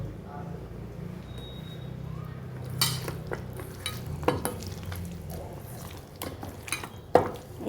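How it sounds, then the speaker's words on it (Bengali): Raw, unwashed chicken pieces being mixed by hand with freshly squeezed lemon juice in a bowl, quiet squelching and stirring with a few light clinks against the dish while someone talks nearby. "এই না ধোয়া অবস্থায় এর মধ্যে আমি একটু লেবু চিপে রেখে এটা মেখে আধা ঘন্টার জন্য রেস্টে রেখে দেব।"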